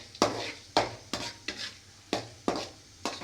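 Mustard seeds, cumin and chana and urad dal crackle in hot oil as a Rayalaseema tempering, heard as a series of about eight sharp, evenly spaced stirring scrapes over a faint sizzle.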